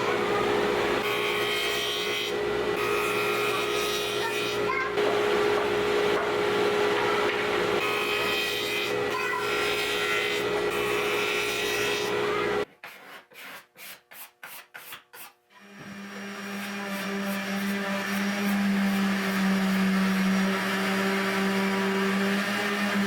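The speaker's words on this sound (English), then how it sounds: "So I've changed out my table saw blade for a dado stack, and we're going to make some very shallow 1/16 of an inch deep dados" A table saw fitted with a dado stack cutting very shallow dados in walnut for a jewelry box frame: loud sustained whine and rasp, then a stretch of rhythmic cutting passes before the motor runs on alone.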